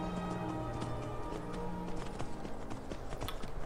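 In the video game Skyrim, a horse's hooves clip-clop in a steady trotting rhythm, moderately loud under background music and ambience, with no talking.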